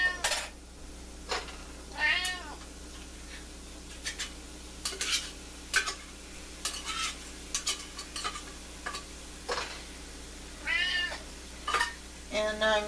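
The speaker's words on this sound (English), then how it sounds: "My cat hears the can of tuna being opened." A house cat meows over and over, in short rising calls, while a can of tuna is opened in a kitchen. Utensil clinks and stirring sounds come and go among the meows.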